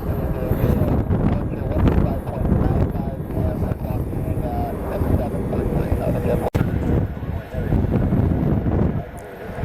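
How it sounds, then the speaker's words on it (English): Steady wind roars and buffets across a microphone at an airport, a constant broadband rush with a sharp click partway through, under faint background activity. "Still pretty windy, so we're fighting the wind a little bit."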